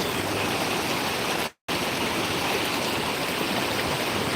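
A steady roar of rushing water from a waterfall in Krishnagiri, broad and constant, broken by a brief instant of silence.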